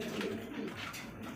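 Pigeons coo softly among a fancy breed collection kept by a pigeon seller, a brief, faint, low murmuring call with no one speaking.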